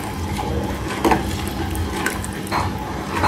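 Tapioca starch being stirred into boiling broth in a pot for bánh canh chả, with bubbling liquid and a few clinks of the utensil against the pot, close and fairly loud.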